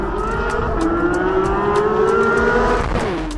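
A Porsche 992 GT3 engine drones at high revs, its pitch holding then blipping as it steps down through gears, loud and close with steady road and wind noise underneath.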